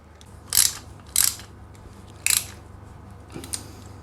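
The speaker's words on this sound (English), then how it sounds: "So once all 6 bolts are in, you can go ahead and tighten them up." Bolts on a bash plate are tightened on a KTM 390 Adventure motorcycle, heard as three short bursts of close ratcheting clicks, then two fainter clicks near the end.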